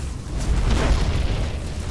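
A large warship blown apart in the space battle game Battlefleet Gothic: Armada 2, a loud sustained roaring explosion with deep rumbling low end that swells and holds steady for about two seconds, heard on its own.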